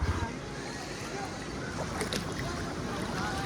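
Sea waves wash onto a steep, deep-shelving beach with rocks in South Goa, a steady broadband surf roar with wind, continuous and fairly loud throughout.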